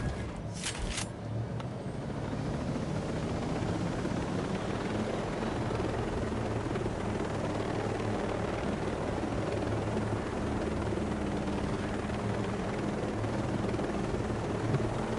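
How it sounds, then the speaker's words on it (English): Steady, droning rotor and engine noise of a helicopter in flight in the video game Ghost Recon Breakpoint, loud and continuous throughout, with a couple of brief sharp clicks at the start and no talk. "Time to get out of here with the helicopter."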